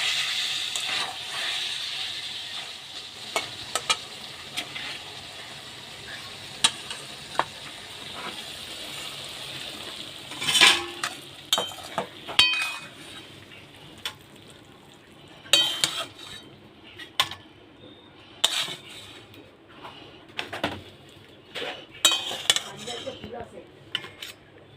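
Oily pointed gourd curry (tel potol) is scraped from a pan into a bowl, with repeated metal utensil clinks and scrapes against cookware over a faint background hiss, louder knocks coming in irregular bursts toward the end.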